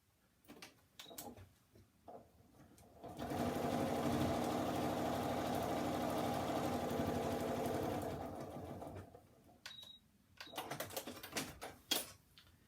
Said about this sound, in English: now we're sewing through all the layers, so we've got our wadding included in this